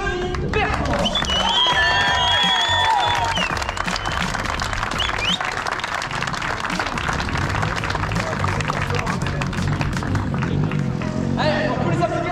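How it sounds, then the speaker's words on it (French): Crowd applause at a drift event, a dense, continuous roar of clapping and cheering mixed with a voice over a loudspeaker and engine noise. "je vous demande aussi de faire un tonnerre d'applaudissements pour Denis Bertrand"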